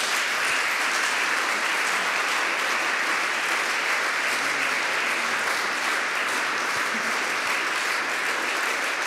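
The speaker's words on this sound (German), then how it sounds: "Ich bitte um einen Applaus." Loud, continuous applause from a large audience at a volunteer awards gala, dense even clapping filling the room with no break throughout.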